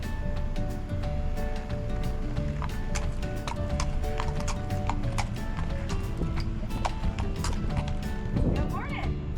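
Horse hooves clip-clop steadily at a McDonald's drive-thru, regular close footfalls over a constant background rumble, with a brief snort or whinny near the end.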